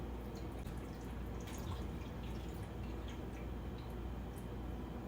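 Water is poured into the water tank of a Keurig Mini coffee maker as a steady, close trickle with faint dripping ticks, continuous for several seconds with no voices.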